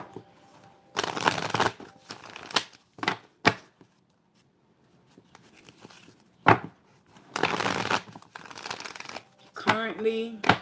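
Oracle cards are shuffled in several quick riffling bursts separated by pauses, close and crisp, with a voice breaking in briefly near the end.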